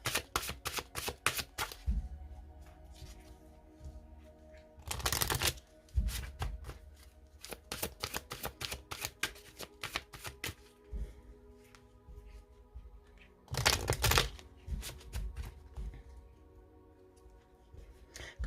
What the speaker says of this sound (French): Donc là, ces cartes, je les prends à l'endroit ou à l'envers. Donc je vais bien les mélanger.